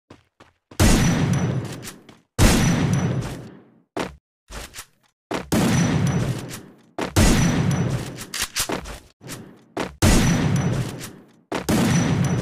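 Loud bursts of automatic gunshots from the mobile shooter Free Fire come in repeated volleys of about a second or two each, separated by brief silences and a few isolated single shots.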